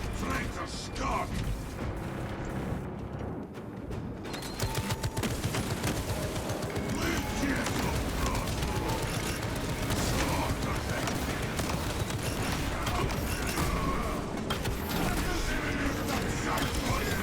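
A sentry gun turret fires in the Space Marine video game, a dense stream of rapid bursts and booms running steadily over a loud battle mix, with voices speaking over the din.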